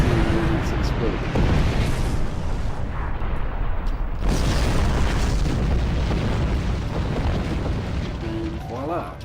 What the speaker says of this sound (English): Nice green explosion-y thing.